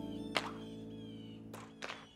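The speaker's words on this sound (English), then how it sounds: "Daddy helped Caillou practice shooting the puck." A cartoon hockey puck is shot: a faint sharp thunk, then two more quick thwacking hits about a second later, alone with no talk.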